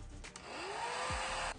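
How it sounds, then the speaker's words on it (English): A blow dryer for a braided wig runs close by with a steady, loud whirring rush, switching on and ending abruptly. "let's plug in our blow dryer"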